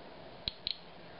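A radiation detector held close to a radioactive dust sample from HEPA filters gives a few sharp, isolated clicks, one then a quick double, against a quiet hiss.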